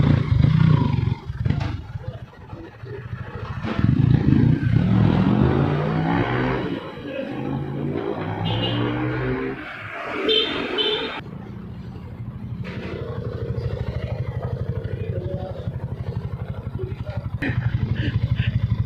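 A motorcycle engine runs and revs under test after its damper was changed, a loud rough roar rising and falling over nearly twenty seconds with people talking over it.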